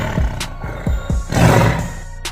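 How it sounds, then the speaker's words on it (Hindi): Lion roaring close and loud. A series of short, deep grunts builds into a long, rough roar that then trails off, with no talking over it. "जब कोई शेर गुर्राता है तो उसकी आवाज लगभग 18 हर्ट्ज तक होती है।"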